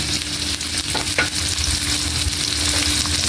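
Ground pork fries in a pan with onion and black pepper, giving a loud, continuous sizzle with stirring scrapes close up and no talk.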